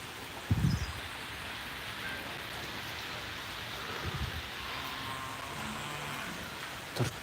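Rain falls outside a goat shed as a soft, continuous patter, with a few low thumps of drops striking nearby surfaces, fairly faint and with no one speaking.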